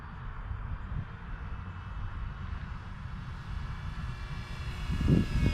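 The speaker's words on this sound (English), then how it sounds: "Just a very nice trainer airplane." A small RC trainer airplane, an Arrows RC Tecnam, drones steadily at a moderate distance with flaps up, its engine hum rising slightly in pitch and loudness toward the end.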